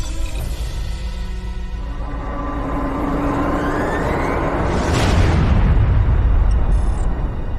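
Starship weapons fire scoring a direct hit in a sci-fi space battle: a rising whoosh builds into a deep, loud rumbling blast that rolls on to the end, with a brief bright tone near the close.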